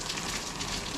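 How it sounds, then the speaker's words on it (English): Heavy rain pounds steadily on the ground outdoors, with gutters overflowing nearby, a dense, constant hiss with no pauses and no voices. "you should be able to hear the rain coming down out here"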